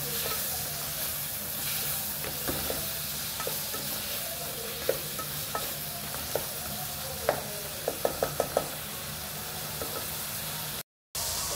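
Tomato, onion and garlic sizzle steadily as they brown in a pan, a constant close frying hiss broken by scattered small pops and clicks of a utensil.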